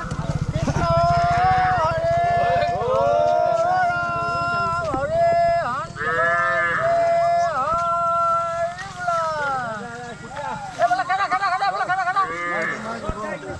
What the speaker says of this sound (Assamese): চব পুৰা গৰু এইফালে একদম আহি আছে এইফালে